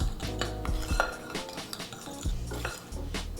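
Sugar and salt being mixed together in a bowl, with clinking utensil scrapes and knocks against the bowl in an irregular rhythm, close and fairly quiet, with no talking.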